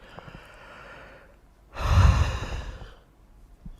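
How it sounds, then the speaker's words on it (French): A person yawns once, a loud breathy swell rising suddenly and fading over about a second and a half, close and alone after a quiet stretch. "ça baille."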